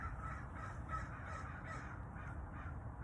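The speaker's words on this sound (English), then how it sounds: "Murder of crows." Several crows caw in a faint, distant, repeated chorus over a steady background rush of outdoor noise.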